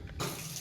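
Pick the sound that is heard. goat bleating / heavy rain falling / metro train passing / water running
water running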